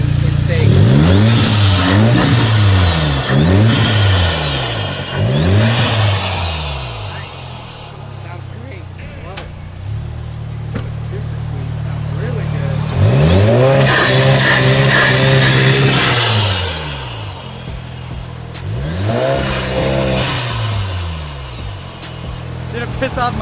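A 2017 Audi S3 with an Integrated Engineering intake and a catback exhaust starts up and revs hard. Four quick blips are followed by a long sustained rev and a few more pulls, all loud and close.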